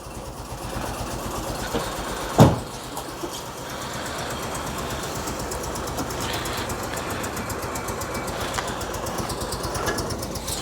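A Citroën 2CV-based Falcon S kit car, abandoned for 23 years, runs with a steady rough idle, one sharp bang early on, then a continuous close engine drone with faint voices underneath.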